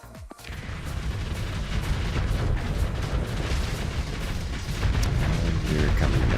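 Missiles slam into ships during a Starsector space battle, a dense, sustained roar of booming impacts and rumbling blasts that stays loud throughout with no pauses.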